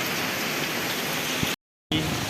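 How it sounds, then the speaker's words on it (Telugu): Steady, dense heavy rain hiss fills the space over a village field, loud and continuous, broken by a brief cut to silence before the downpour resumes. "ఫుల్ వర్షం అసలు, మళ్ళీ బయట కడుతుంది"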